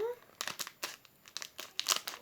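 Scissors snip and crinkle through plastic toy packaging up close, a few short crackling cuts and rustles in quick bursts, with a brief voice at the start.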